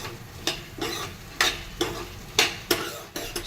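Ingredients are dry-roasted in a pan for a sweet, with rhythmic spatula stirring strokes about every half second over a low, faint background sizzle, close and clear.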